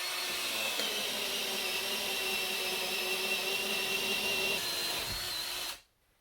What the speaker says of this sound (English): first drill the hole.